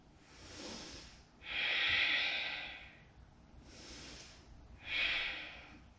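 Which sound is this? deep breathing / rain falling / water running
deep breathing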